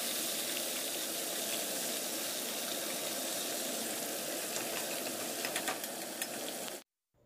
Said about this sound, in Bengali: মাছের মুড়ো, মাছ এগুলো ভেজে রেখে দিই